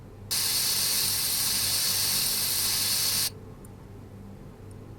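A spray can hisses in Offroad Mechanic Simulator, one loud, steady burst lasting about three seconds before cutting off sharply into quiet.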